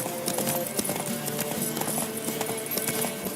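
Horse hooves galloping in The Witcher video game, a quick, steady clip-clop rhythm close by and fairly loud, running continuously.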